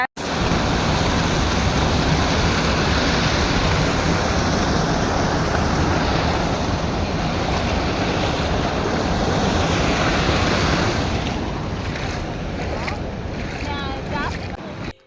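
A village stream flows steadily in a constant broadband rush, loud and close throughout, with a faint voice and some lighter splashing near the end.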